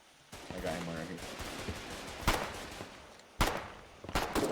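Submachine gun fire in the online war game Foxhole during frontline fighting: several sharp bursts and single cracks spread across the moment, loud and close, with a voice talking underneath.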